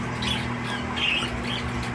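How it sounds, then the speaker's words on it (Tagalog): A pet bird gives a few short squawking calls over a steady low electrical hum, fairly close and with no voices. "Kaso tumatawag yung ibon mga lods."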